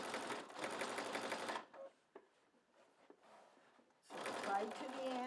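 A sewing machine runs in two bursts, stitching a fabric-wrapped rope coil into an Easter basket; the motor whirs steadily for about a second and a half, stops for quiet handling noises, then starts up again near the end.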